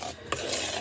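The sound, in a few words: stirring cornmeal cornbread batter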